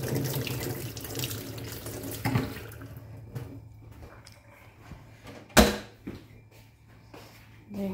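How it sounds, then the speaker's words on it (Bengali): A kitchen tap runs while hands are washed, water splashing steadily before tapering off, followed by a sharp knock and small clatter nearby. "হাত ধুয়ে নিই।"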